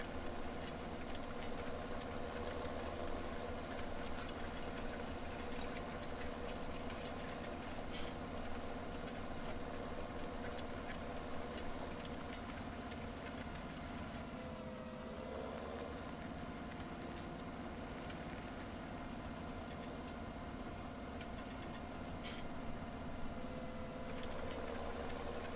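A 360-horsepower tractor engine in Farming Simulator 2017 on the Goldcrest Valley map runs at a steady, even drone, faint and unbroken throughout, with light ticks and no speech.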